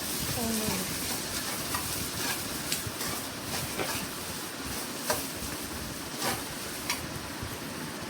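Onions fry for a chicken curry with a continuous crackling sizzle, while a spoon stirs them with occasional soft scrapes and taps throughout.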